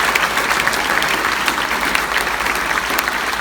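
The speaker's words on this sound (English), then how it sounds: "So a big hand of applause for the Brainerd Public Library." A gathered audience applauds for the Brainerd Public Library at a Wine & Words event, a loud, continuous burst of clapping that fills the whole moment at an even level.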